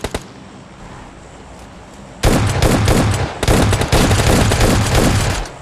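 Shotgun fire in a two-player squad shooter video game: after a low, quiet stretch, a loud, dense burst of rapid blasts erupts midway and keeps pounding to the end with barely a pause.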